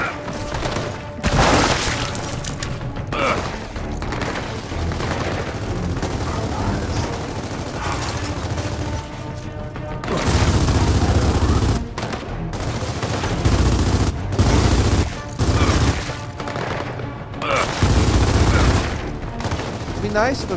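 Gunfire in Gears of War 4 during a squad firefight, with loud sustained bursts of automatic fire and scattered single shots that come in waves, mixed with other game noise.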